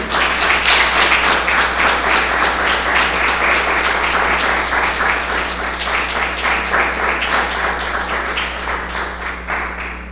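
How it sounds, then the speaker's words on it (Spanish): A church congregation at a Messianic service breaks into sustained applause, dense rapid clapping from many hands that stays loud and gradually thins toward the end over a low steady hum. "Denle el aplauso al Rey."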